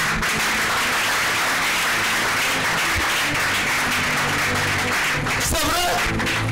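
A church congregation applauds and cheers during a French Bible teaching on Genesis 24, a steady, dense wash of clapping that fills the room, with voices calling out through it and a brief rise of shouting near the end.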